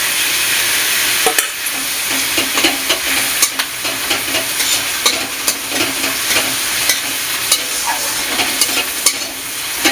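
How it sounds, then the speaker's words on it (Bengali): Garlic paste added to onions frying in oil for a spicy Bengali chela fish curry, a loud continuous sizzle broken by repeated clacks and scrapes of a spoon stirring the pan, with no voices. "পেঁয়াজটা হালকা নাড়াচাড়া করে এবার আমি দিয়ে দেবো ওতে রসুন বাটা।"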